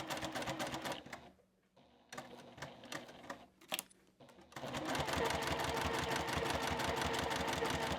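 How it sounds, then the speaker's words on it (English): A sewing machine stitches quilt binding in fast, close, rhythmic runs. It stops briefly twice and gives a few short bursts, like going forward and backing up over the stitches, then runs steadily again. "I will go forward a few stitches and then go back."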